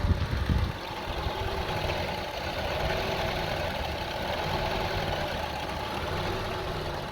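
A Honda CR-V engine idles roughly with a steady mid-to-low drone and an uneven, faintly knocking undertone, close and continuous, with a brief bump at the start and no talking.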